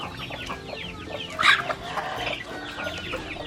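Native chickens cluck and squawk in alarm while being caught on a farm, a flurry of close, agitated calls peaking in one loud squawk amid scuffling.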